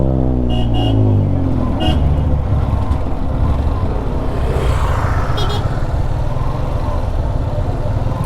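Heavy traffic at a Trichy highway junction, heard from a motorcycle: a loud, steady rumble of engines and wind, with a few short horn toots near the start.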